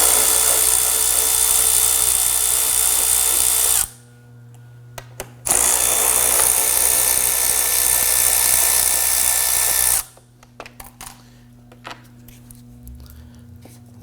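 A power tool on a 2003-2014 Volvo XC90 3.2L six-cylinder whines loudly in two long high-pitched bursts as it loosens and removes 8mm radiator bolts, with brief clicks and a low hum in the pauses between runs.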